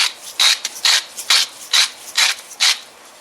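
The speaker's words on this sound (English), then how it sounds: "But I'm going to grind some salt in there." A salt grinder crunches coarse salt in a series of about eight rhythmic, gritty twisting bursts, close and fairly loud, with short pauses between turns while cornmeal gravy is being made.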